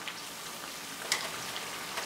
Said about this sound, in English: We should fry these breadsticks on the medium-high heat.